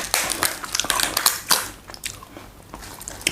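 Close, loud crunching bites and chewing of raw cabbage eaten with a nutty peanut dipping sauce alongside grilled mackerel wraps, crisp snaps repeating for a few seconds with no talk.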